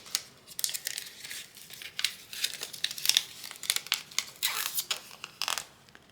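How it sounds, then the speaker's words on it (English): Transfer tape for cardstock and vinyl crinkles and crackles as it is handled and peeled, in close, irregular bursts of rustling with no voice. "So now we need to use our transfer tape"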